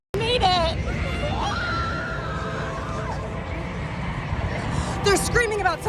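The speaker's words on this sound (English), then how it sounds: "They're screaming about something." High shrill screams from a crowd of people at a stadium, rising and falling over a dense wash of chatter, with louder bursts near the start and end.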